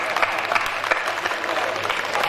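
Audience at a Bundeli poetry recital breaks into steady, dense applause, many hands clapping at once, loud and close, with faint crowd murmur underneath.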